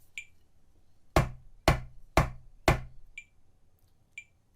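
Four evenly spaced sharp drum hits land in steady time, each a crisp broadband strike with a short decay, close and loud; faint high metronome clicks tick before and after them.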